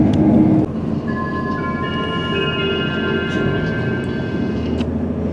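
A passenger train departing Leeds, heard from on board as a loud, steady rumble of wheels and carriage noise with faint rising whine tones.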